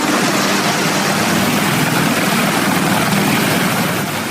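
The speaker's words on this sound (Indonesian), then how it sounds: "Dengan menggunakan helikopter, pasukan Angkatan Laut Amerika Serikat menyerbu kapal tanker" A US Navy helicopter's engine and rotor drone steadily and loudly, a continuous mechanical roar with no voices over it.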